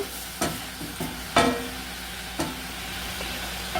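Onion, carrot and broccoli sautéing in a pan, giving a soft continuous sizzle with a few sharp stirring scrapes spaced irregularly, close by and without talking.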